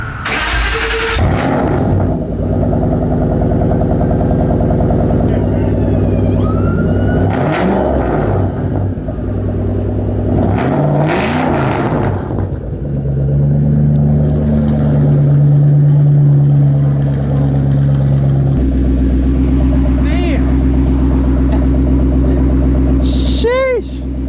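A Ford Shelby GT500 that has not been started since Sunday cranks and fires up, then rumbles loudly with several sharp revs rising and falling. People talk close by over the engine noise.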